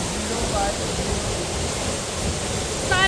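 A big waterfall at Tiger Fall roars as a steady, dense broadband rush filling the whole clip, loud and close, with a brief voice near the end.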